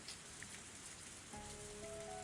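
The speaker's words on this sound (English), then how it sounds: "Raindrops pelted my face without mercy" Steady rain falls in the video game Higurashi When They Cry, a soft continuous patter of drops on a surface, faint and even throughout, joined partway by quiet sustained background music tones.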